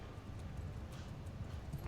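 Horses galloping during a battle in Mount & Blade II: Bannerlord, a dense low rumble of hooves drumming continuously, faint and somewhat distant, with no voices.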